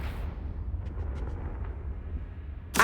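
A Confringo blasting spell goes off in the video game Hogwarts Legacy as a deep, sustained rumbling boom, ending in a sudden bright burst.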